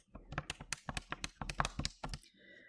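Buttons pressed on a blue and white handheld calculator during a geometry problem, a quick run of about twenty crisp, close plastic clicks in an uneven rhythm, heard alone.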